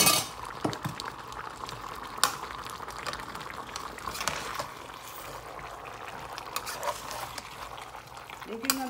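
A spoon clinks against a pot while vegetables and shrimp are stirred, giving light scraping and tapping under a low simmering hiss, with someone speaking over it.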